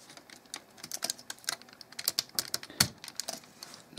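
Plastic connectors on a TFC Toys Uranos combining robot figure snap and click together in a rapid, uneven flurry of sharp, close taps.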